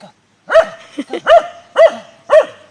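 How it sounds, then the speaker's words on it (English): A dog being trained to wait for food barks sharply four times in a steady rhythm, close and loud, with a short whine between the barks. "Stop barking"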